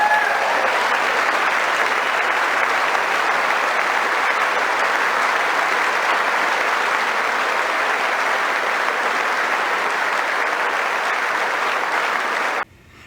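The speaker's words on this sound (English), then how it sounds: "He brought them back to something where they all got to stand and applaud again." Sustained applause from a large standing audience at a political speech, a dense even roar of clapping that holds steady for about twelve seconds before cutting off abruptly.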